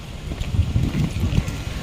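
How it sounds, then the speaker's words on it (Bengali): Sea wind blows beside the shore on a sunny beach, a rough, fluttering rumble buffeting the microphone continuously and fairly loudly, with no other distinct sound. "তবে হাওয়া আছে একদম সমুদ্রের পাশে তো।"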